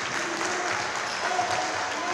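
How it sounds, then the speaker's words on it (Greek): Crowd applause during a Greek women's A1 basketball game between O.A. Chania and Eunikos, steady arena clapping with a commentator talking over it. "Κερδίζει όμως το χειροκρότημα"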